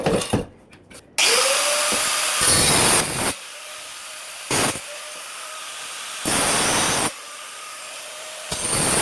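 A power tool runs during kitchen carpentry work in Riyadh, in several loud, near bursts of harsh whirring hiss lasting a second or more each, separated by short quiet gaps.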